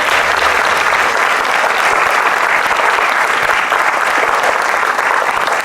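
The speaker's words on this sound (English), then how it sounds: "One more round of applause for Kara and Hannah." Loud, dense applause from a large audience at a women's sports awards ceremony, a thick continuous roar of clapping held evenly throughout with no speech over it.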